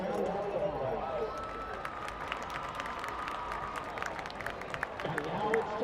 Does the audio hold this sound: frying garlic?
no